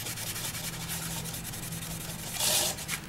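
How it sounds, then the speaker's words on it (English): A finished eucalyptus wood box with carved wings is buffed by hand, giving a steady, close rubbing hiss that continues throughout and swells briefly louder near the end. "So just by hand, buff these wings, the outside of the wings where I can't do it all."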